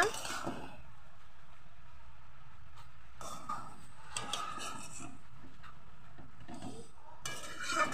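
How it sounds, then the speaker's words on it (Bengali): Beet greens being stirred slowly in an open pan, with soft scraping of a utensil against the metal and a faint sizzle, steady and close, with quiet gaps between strokes. "এইভাবেই আমি এখন আস্তে আস্তে নেড়ে নেড়ে শাকটাকে মজিয়ে ফেলবো।"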